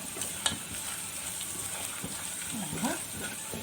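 Garlic frying and being stirred in a pan for Upper Egyptian okra wika, a steady close sizzle with scraping stir strokes and a small clack, while someone talks over it.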